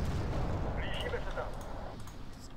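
Artillery in a war video game thuds and booms in dull, rumbling bursts with a low, continuous roar underneath, while a voice talks over it.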